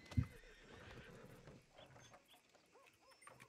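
A horse in Red Dead Redemption 2 snorts loudly up close, then whinnies in short breathy bursts with faint hoof clops, alone and fairly quiet.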